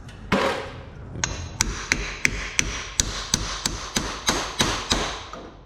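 A wheel bearing on a boat trailer hub is driven into place with a large 1 3/4-inch socket: one heavy knock, then about a dozen sharp, evenly spaced metallic taps, close and loud, with no talking.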